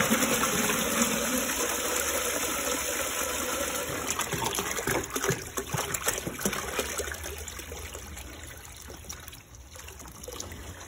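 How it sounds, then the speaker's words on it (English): Water pours steadily into a peach moonshine mash for a mountain brandy, a continuous close trickling gush that eases off slightly toward the end. "Now we're gonna add some water,"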